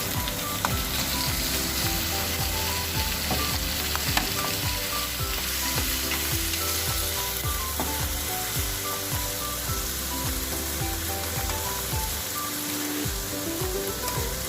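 Onions frying in a pan over medium heat for a chicken kofta bhuna curry: a dense, continuous sizzle, close and loud, with a few faint stirring clicks and no voices.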